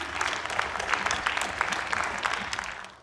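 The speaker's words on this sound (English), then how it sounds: "let's hear a round of applause for these 6 great inductees." An audience applauds hall of fame inductees at an induction ceremony, a dense, steady wash of clapping from a crowd that carries evenly throughout and begins to fade at the very end.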